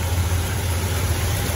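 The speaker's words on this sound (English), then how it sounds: "Engine's on, warmed up." A warmed-up 1972 Ford F-250 Camper Special pickup truck engine idles with a steady low rumble, even and unbroken, close by.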